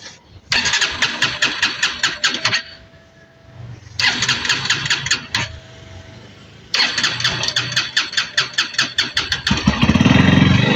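A Bajaj Pulsar NS160 fuel-injected motorcycle starts up and runs in loud bursts of revving, rapid crackling engine pulses cutting off into brief quiet idle gaps, close to the microphone with no talking.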